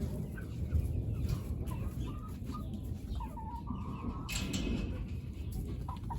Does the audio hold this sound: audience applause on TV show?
no